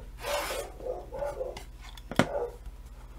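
Quilt fabric being cut for a crazy quilt, with several close, rasping shears strokes, short crunchy snips in a loose rhythm and one sharp click midway, no voices.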